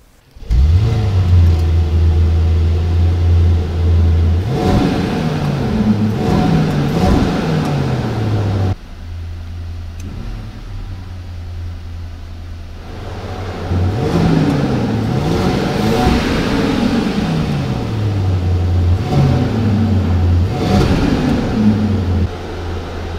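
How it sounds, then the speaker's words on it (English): The large engine of a 2020 Mercedes-Maybach GLS 600 SUV turns over and catches, then revs up and down in several rising and falling sweeps, pausing briefly before revving hard again, loud and close. "So let's start the engine."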